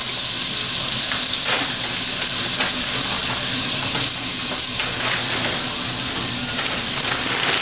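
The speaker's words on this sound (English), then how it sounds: "Let's go with some chopped onions here. Put that down in the heat. Get that going." Chopped onions, carrots and celery sizzle loudly in a hot pan, a continuous dense crackle of frying with occasional stirring scrapes and no voices.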